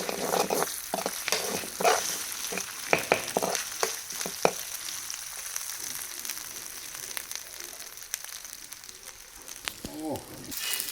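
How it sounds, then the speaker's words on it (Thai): Fried fish, eel, is stir-fried with curry paste in a pan, with steady sizzling and a rapid series of loud spatula scrapes and clacks against the pan that thin out into quieter frying, heard up close. "อันนี้เพิ่นผัดใส่พริกแกงด้วย"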